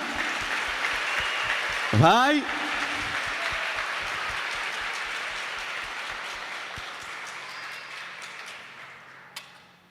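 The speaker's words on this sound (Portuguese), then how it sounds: "merecem uma salva de palmas" Congregation clapping in a church during an Epiphany Mass, a broad steady round of applause that slowly fades over several seconds, with a spoken word and a brief rising tone near the start.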